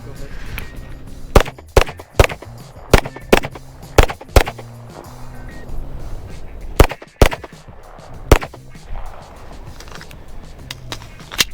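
APF Strike One pistol being fired: a series of sharp, loud gunshots, some in quick pairs and clusters, others spaced a second or more apart, over a low background hum.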